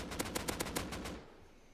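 A video game automatic weapon fires a rapid, evenly spaced burst of about eight shots with a dense crackling tail, then cuts off into a fading echo.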